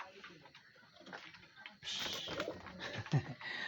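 Pigeons coo softly and close by at night, a few low, throaty calls over quiet rustling and faint background noise.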